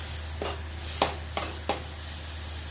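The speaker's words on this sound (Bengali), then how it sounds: "এটা যতক্ষণ না পুরো একদম জলটা শুকনো হয় ততক্ষণ এইভাবে নেড়ে নেড়ে ভাজো" Paste made from ridge gourd peel fries in a pan under a steady sizzle, while a spatula scrapes and knocks against the pan three or four times, close by.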